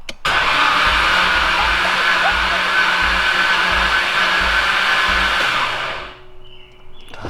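A Nissan Skyline R32 GTR with a blown engine, its starter trying to crank: a steady loud whirring drone with a faint repeating low pulse underneath, running about six seconds before cutting off abruptly.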